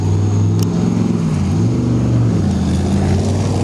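Harley-Davidson Street Glide FLHX motorcycle idling through its mufflers, a loud, close, deep, steady rumbling burble.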